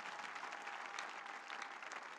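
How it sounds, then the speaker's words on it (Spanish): A church congregation clapping during a Palm Sunday sermon, a brief, steady, fairly faint wash of many hands applauding together with no voices standing out. "Aplaude a Jesucristo."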